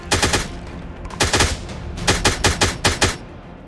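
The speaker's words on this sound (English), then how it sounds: "There's gunshots everywhere right now." Rapid bursts of video game gunfire, several quick volleys of sharp shots in close succession, loud and near.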